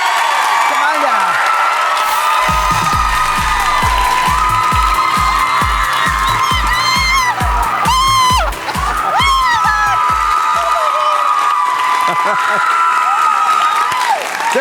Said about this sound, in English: But these guys really are cheering for you.